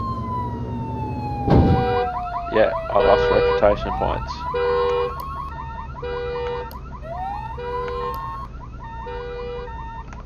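Emergency sirens in the Flashing Lights video game, a wailing siren sweeping up and down with a pulsing yelp pattern. A crash thud comes early on, and someone speaks briefly over it.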